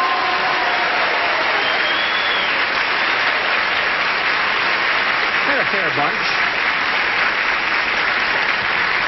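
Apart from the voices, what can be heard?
studio audience applause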